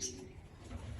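Pigeons in a loft housing young birds, a soft low cooing heard faintly close by against quiet background noise.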